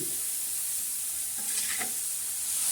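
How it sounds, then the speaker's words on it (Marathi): Soybean fry sizzles steadily on a hot griddle while it is stirred, with soft scraping strokes in the middle of a continuous frying hiss. "आता छान अशी हलवून घ्यायची सर्व असं चांगलं हलवायचं"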